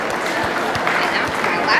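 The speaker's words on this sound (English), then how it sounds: "let's give all of those people a big round of applause" Dense, even applause from a crowd at a Lincoln County Fair 4-H beef show, a continuous wash of clapping filling the whole moment with faint voices mixed in.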